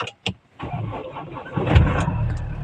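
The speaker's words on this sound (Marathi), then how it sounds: "गाडी चालू करूया।" An MG Hector car's engine cranks briefly after a couple of clicks, then catches and settles into a steady close idle.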